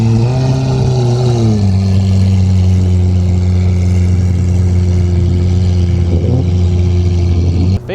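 Lamborghini Aventador S engine at a Japanese parking-area car meet, a loud, close, steady deep rumble with strong harmonic tones that shifts pitch early on, then holds a high idle-like drone before cutting off near the end.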